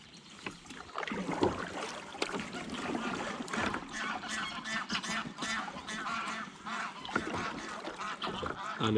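Greylag geese honk repeatedly on Lake of Menteith, a chorus of overlapping calls at moderate distance, heard from a kayak alongside faint water and paddle sounds.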